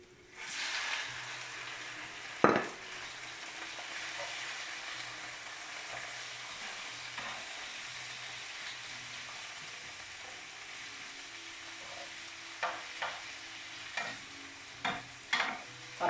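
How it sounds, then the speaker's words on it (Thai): Shrimp and squid stir-frying in a pan produce a steady, moderately loud sizzle, broken by one sharp clank early on and a series of spatula scrapes and taps near the end. "เรียบร้อยแล้วก็กุ้งหมึกลงไปผัดพี่น้อง"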